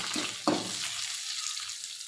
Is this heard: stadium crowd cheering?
no